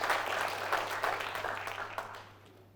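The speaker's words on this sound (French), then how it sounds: "Je vous demande donc d'applaudir très fort pour Georges Duya." Steady crowd applause, a dense patter of many hands clapping that gradually fades out toward the end.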